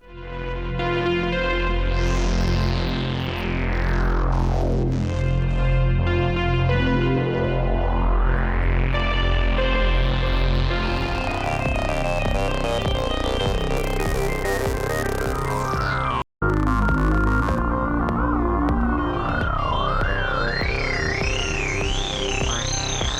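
Demo sounds from the BP Synth board, a cheap synthesizer kit, producing loud continuous synth tones with sweeping pitch glides, throbbing pulses and a wobbling vibrato line, broken by one brief dropout.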